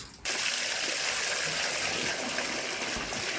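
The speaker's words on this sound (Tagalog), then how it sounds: "i-open lang po niyan mga lods yung ipainuminan para matapon yung tubig" Water from an opened duck drinking trough gushes out and splashes steadily into a drainage canal, a continuous near rushing pour that starts abruptly after a brief quiet moment.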